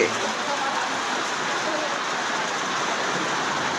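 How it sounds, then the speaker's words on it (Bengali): Heavy rain pours at the Mirpur bus stand, a dense, even hiss that is close and loud and runs without pause. "দেখুন যে কত বৃষ্টি প্রচুর বৃষ্টি হচ্ছে"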